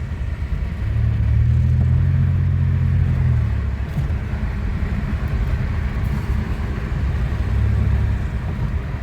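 A 2007 Pontiac Grand Prix with a supercharger, its engine running after a pulley repair: a steady, loud low rumble that swells as the engine revs, holding for several seconds and rising again near the end, with no talking.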